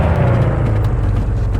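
Loud, steady car engine drone from The Radio Station video game, a continuous low rumble that holds without a break.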